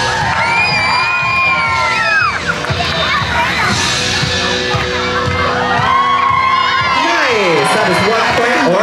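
Spectators at a dog competition cheer and whoop loudly for the orange team, their shouts rising in sustained waves, with scattered voices and yells mixing in throughout.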